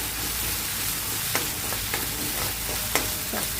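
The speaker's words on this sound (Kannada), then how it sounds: "ಈಗ ಆನಿಯನ್ ಸ್ವಲ್ಪ ಕಲರ್ ಆದಮೇಲೆ ನಾನು ಇವಾಗ ಅದಕ್ಕೆ ಟೊಮೆಟೊ ಹಾಕ್ಕೊಳ್ತಾ ಇದ್ದೀನಿ" Tomatoes go into onions already frying in a pan for palak paneer, with a steady loud sizzle and a few sharp scraping stirs of a spoon against the pan, no voices.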